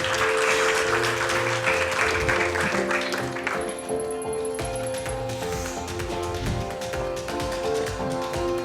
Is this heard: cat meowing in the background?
no